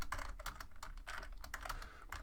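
Rapid typing on a computer keyboard while entering a math symbol into a Word document, with irregular close clicks and brief pauses and no speech.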